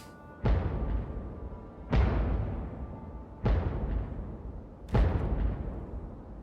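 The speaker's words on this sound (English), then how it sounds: "Plenty of explosions." Four booming explosions in Fallout 3 go off at roughly 1.5-second intervals. Each has a sharp, broadband onset and a long rumbling decay, and a steady low background rumble fills the space between them.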